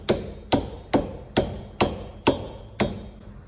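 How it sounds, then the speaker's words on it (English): A dead blow hammer strikes a powder-coated lower control arm on an S197 Mustang seven times in a steady rhythm. Each tap lands as a sharp, close, dull thud with a short decay, and no one speaks. "I'm gonna use my dead blow, so it's not super harsh on it and chipping the powder coat"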